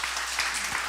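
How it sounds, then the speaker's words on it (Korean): Church congregation clapping for a visiting member during a Saturday evening revival meeting, a dense steady patter of many hands filling the room without pause. "우리 저분을 박수 한번 쳐줘요."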